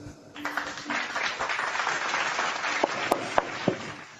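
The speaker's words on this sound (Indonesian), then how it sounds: "Tepuk tangan untuk kita semua." A church audience breaks into continuous applause, a dense, moderately loud clatter of hands, with a few sharper individual claps standing out toward the end.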